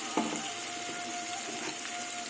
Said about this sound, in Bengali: এবার আমি মিক্সি বাটি আর থালাটা ধুয়ে জলটা একটু দিয়ে দেবো